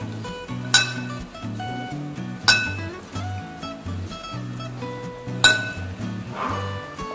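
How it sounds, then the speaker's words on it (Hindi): A spoon clinks against a bowl while spices are mixed for kadhi, three sharp metallic pings spaced a few seconds apart over softer stirring and faint background music. "अब इसको पहले थोड़ा सा मिक्स कर लेंगे इस तरह करके।"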